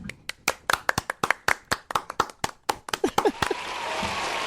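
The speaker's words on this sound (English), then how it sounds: "let's take a moment with Hunter here with us and applaud the great Hunter Reed." An audience claps for a speaker at a South Carolina sports talk event, starting as distinct separate claps and swelling into dense, steady applause by the end.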